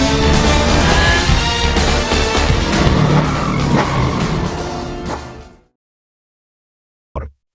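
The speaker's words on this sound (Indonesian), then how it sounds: "Jokowi yang melihatnya bergegas mengejar Tommy dengan mengendarai sebuah mobil sport." A sports car drives fast through a chase, its loud, dense engine roar and tire noise running steadily for about five seconds before cutting to silence, then a brief final burst.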